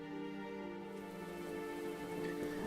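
Steady rain in the video game WILL: A Wonderful World, a soft even patter that continues unbroken under a faint tonal game backdrop, with no voices.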